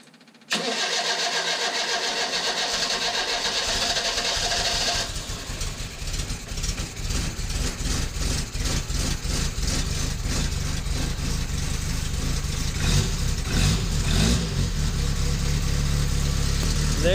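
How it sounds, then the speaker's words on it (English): A 1972 Fiat 850 engine cranks, catches and starts without starter fluid, then runs loud and close with an uneven, lumpy idle that never fully settles while still not completely warm. "We're getting it started without needing starter fluid"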